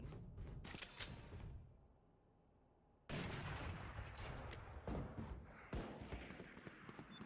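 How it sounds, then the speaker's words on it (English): Fireworks ability thrown into B site during a Valorant match, heard as bursts of loud popping and crackling blasts with a brief quiet gap before the barrage resumes, with no talk over them. "somebody's doing some fireworks into B site"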